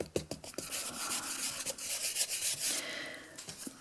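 An embossing buddy pouch rubs across cardstock in quick, soft, scratchy back-and-forth strokes, close and quiet, with no talking.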